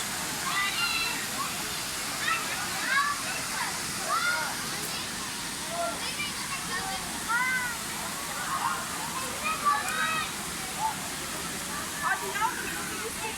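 Steady rushing water of the Sabun Çayı waterfall in Düziçi, Osmaniye fills the scene, with splashes and faint voices of people mixed into the constant roar.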